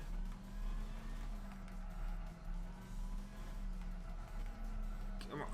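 A race car engine in Gran Turismo 6 drones steadily at high revs through an International B one-make race, rising and dipping through corners, with a brief sharp burst near the end.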